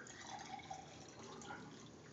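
Water is poured into a glass at a dad's 77th birthday gathering, a faint, close trickle with light splashy gurgles running for a couple of seconds.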